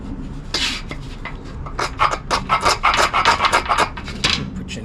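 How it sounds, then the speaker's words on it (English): A blade scrapes fatwood to make tinder with a series of rapid, close, rasping strokes that come in a quick rhythmic burst, dry and scratchy, with no talking. "The first thing I'm going to do is scrape some of the fat wood off"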